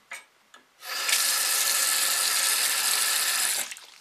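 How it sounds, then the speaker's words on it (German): Water from a tap runs into a bathroom sink in a steady, loud, close rush after a couple of brief clicks and handling sounds. It stops abruptly near the end, leaving a few faint drips and knocks. "Bisschen Wasser ins Waschbecken lassen."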